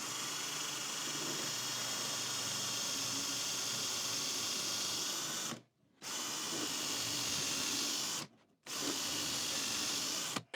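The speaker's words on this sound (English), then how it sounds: "So let's drill some holes." A power drill bores holes through a Chinese-made drill guide in long, steady whirring bursts, stopping briefly twice between holes, loud and close with no talk.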